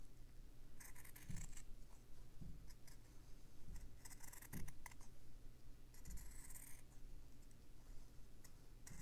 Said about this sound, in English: And I'll cut that shape out.